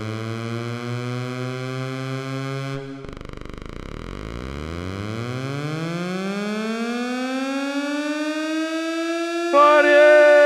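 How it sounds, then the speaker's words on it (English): Air raid siren effect from a desktop softsynth: a steady tone drops away, then a long rising wail climbs slowly and holds near the end, loud and alone. "Air raid."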